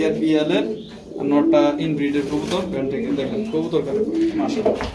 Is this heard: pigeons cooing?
yes